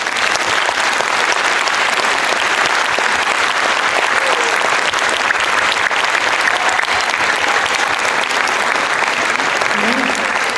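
The audience at a kindergarten spring party in Paide claps for the sponsors. The dense, even applause fills the room, holding steady and loud for about ten seconds.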